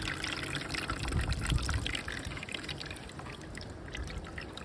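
Water is poured onto a pumice potting soil mix during repotting and drains through quickly, giving a close, steady trickling and gushing pour that eases off toward the end, with no voices.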